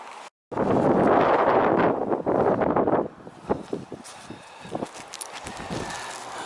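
Wind buffets the microphone on an open Welsh hillside at Cwm Prysor, loud gusty roaring for a few seconds that then drops away to lighter rustles and scattered knocks.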